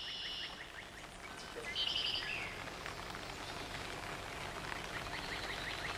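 Steady, faint rain patters down in a soft continuous hiss in a Romanesque monastery cloister in Catalonia, with bird chirps breaking through now and then in the background.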